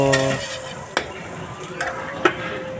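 Chilli paneer fries with spices in a kadai, with a steady sizzle broken by a few distinct metallic scrapes and knocks of a stirring spoon.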